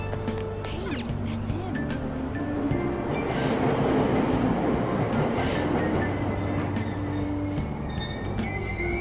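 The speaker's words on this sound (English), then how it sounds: "Train doors are now closing." Train at a station platform in the game Persona 5 Royal: a steady rumble of rolling wagons with rhythmic clacks and faint wheel squeals, alongside a station announcement voice and chime tones.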